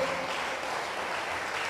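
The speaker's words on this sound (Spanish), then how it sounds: "Dale más fuerte las palmas en el nombre de Jesús." A church congregation claps together in a dense, continuous wash of applause, fairly faint and even throughout, with no talk over it.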